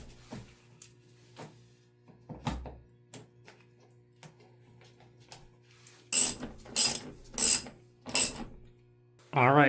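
A hand ratchet loosens oil pan bolts on a 2008 Lexus IS F, starting with quiet scattered taps and clicks, then four loud, close bursts of ratcheting near the end.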